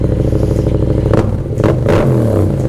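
A warmed-up Yamaha MT-07 motorcycle engine idles with a throaty, pulsing rumble, then briefly revs up and settles back down, close and loud.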